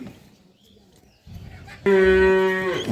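A dairy cow at a rural home lets out a loud, drawn-out moo up close after a few seconds of quiet background noise.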